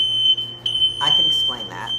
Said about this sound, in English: that's about the 6th time that I've had to wave the fire alarm with something